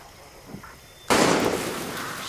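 A sudden loud gunshot rings out in the open-world shooter Far Cry 6, cracking sharply after a quiet moment and then trailing into a long echoing decay.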